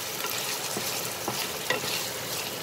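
Potatoes for a Spanish omelette fry in a pan over reduced flame, giving a steady, dense sizzle throughout with a few soft stirring scrapes and clicks near the middle.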